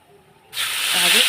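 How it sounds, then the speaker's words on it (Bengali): Cumin seeds and a bay leaf hit hot oil and burst into a loud, close sizzling hiss that starts suddenly after a brief quiet moment and keeps going. "এখন আমি জিরে আর হচ্ছে তেজপাতা ফোড়ন দিলাম"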